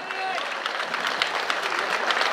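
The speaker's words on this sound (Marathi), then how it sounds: "सर्वांनी जरा जोरदार टाळ्या वाजून त्यांचा सन्मान करा." An audience claps loudly and continuously at a local honouring ceremony, a dense crowd applause that carries straight through from start to end.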